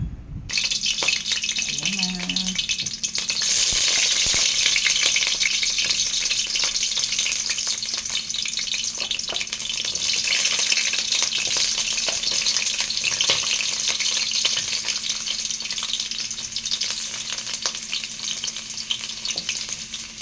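Sweet potato frying in a hot pan gives a dense, continuous sizzle that holds close and loud for about twenty seconds, with a brief faint voice near the start.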